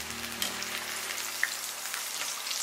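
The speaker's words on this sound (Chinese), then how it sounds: "像这样炸至金黄酥脆，然后我们用漏勺给它捞出来" Shiitake mushrooms deep-frying in hot oil until golden and crisp, giving a steady, close sizzle with dense crackling and no voices, alone throughout.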